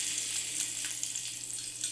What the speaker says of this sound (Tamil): இப்போது பச்சை மிளகாய் நல்லா வதங்கியிருக்கு